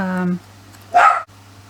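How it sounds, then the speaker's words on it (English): A pet dog lets out a short bark at the start, followed by a louder single yip or bark a moment later, both close by in a quiet indoor room. "he's just having a little bark every now and then because he wants to go downstairs"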